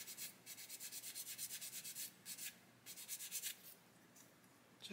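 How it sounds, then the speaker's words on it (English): A sanding stick glides gently over raised panel detail on a 1/32 scale HKM A-20G Havoc plastic model kit, producing soft, quiet rhythmic rasping strokes in regular bursts with brief pauses. "I'm just letting the sander glide over the surface"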